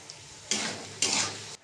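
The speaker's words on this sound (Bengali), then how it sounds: "এবার আমি সর্ষের গুঁড়ো দিয়ে একটু নেড়ে চেড়ে নেব।" A pointed gourd curry with soaked mustard powder stirred in a pan, two short scraping, sizzling strokes about half a second apart, quiet and close.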